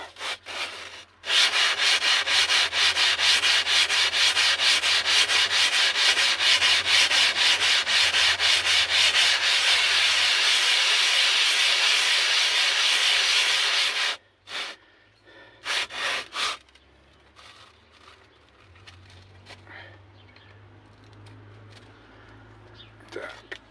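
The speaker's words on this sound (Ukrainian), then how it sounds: "І от таким методом будемо доводити шліфувати усю поверхню." Steady, loud abrasive rubbing of a sanding tool on a metal cylinder head surface from a Zubr 8 hp walk-behind tractor for about thirteen seconds, then it stops and quieter handling noises follow.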